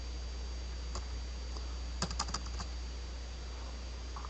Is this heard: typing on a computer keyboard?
yes